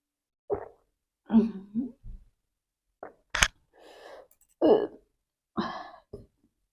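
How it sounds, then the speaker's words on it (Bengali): Someone drinking water after a spicy chicken kosa and roti meal: a few close gulps and swallows in short bursts with pauses between, alongside a couple of breathy exhalations and a small throat sound. "একটু জল খেয়ে নিই হালকা"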